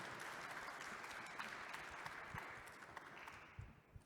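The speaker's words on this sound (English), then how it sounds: "a quick round of applause for their open sharing" Faint, steady applause from a conference audience for a panel on governing data exchange systems, even and continuous with a few sharper claps near the end.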